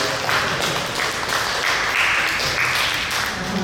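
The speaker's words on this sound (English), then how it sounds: "Yes, let's give them a round of applause." An audience applauding at a Hawaiian summer-institute student showcase (ho'ike), a steady wash of many hands clapping, moderately loud and even, with no pauses.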